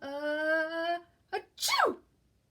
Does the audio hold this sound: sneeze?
yes